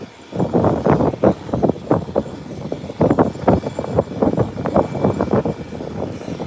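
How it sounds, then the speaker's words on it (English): Strong wind at an elevated height buffets a microphone in loud, irregular gusts, producing rumbling bursts that rise and fall continuously throughout. "The wind has picked up again."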